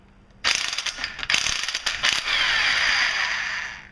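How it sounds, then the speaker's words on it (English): An impact wrench spins off the camshaft sprocket bolt on a 2001 Dodge Neon, a loud close burst of rapid hammering rattles that settles into a steady whirring buzz, with no talk. "that freaking impact wrench is awesome"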